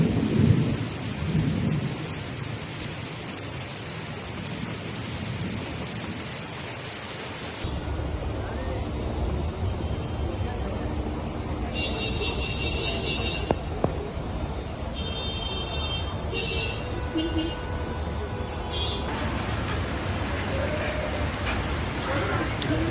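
Heavy monsoon rain pours down on a flooded city in Telangana, India, with rolling thunder. A loud, steady downpour hiss runs throughout, with deep thunder rumbles, and no talk is heard.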